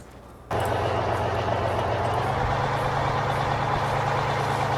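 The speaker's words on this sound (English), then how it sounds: "Now this truck, this truck right here, it's a nice looking truck" Heavy truck with trailer in Farming Simulator 2015, its engine starting abruptly after a brief lull and then droning steadily and loud, with a low, constant rumble and a slight shift in pitch partway through.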